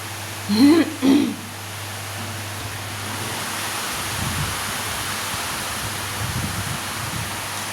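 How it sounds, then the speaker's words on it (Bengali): A short vocal noise like a throat clearing, then steady heavy rain hisses on without a break. "কি পরিমাণ বৃষ্টি হচ্ছে মা গো।"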